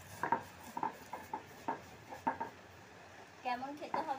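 Fried cumin seeds crushed on a grinding stone, giving rhythmic soft scraping strokes at a steady pace, fairly quiet, with a voice speaking briefly near the end.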